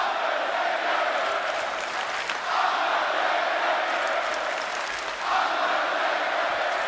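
A wrestling arena crowd of about 15,000 chants and roars steadily for the Undertaker at Crown Jewel, a dense, loud wall of voices with the chant rising and falling in waves and no clear pauses.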